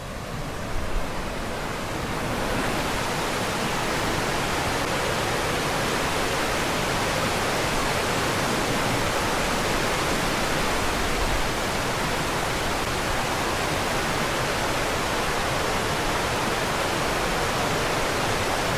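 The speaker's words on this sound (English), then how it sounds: "Very nice flow of water here now." High stream water pours at Salmon Hole after a dry summer, a dense, steady broadband rush with no pauses, loud and close throughout.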